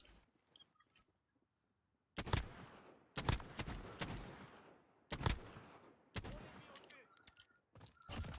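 Gunfire in the battle royale shooter Warzone: after near silence, a series of loud, sharp shots and short bursts with echoing tails, spaced roughly a second apart.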